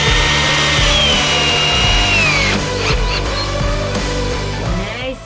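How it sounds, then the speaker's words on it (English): A power drill whines loudly up close, its pitch shifting as it bores holes into a wooden slat inside a van, with brief pauses between holes. "we're going to drill some holes in this wooden slat"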